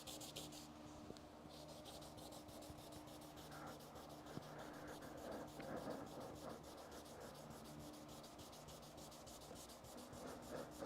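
A car body being sanded by hand with 220 grit sandpaper gives a continuous close-up rubbing and scraping in long even strokes, steady throughout.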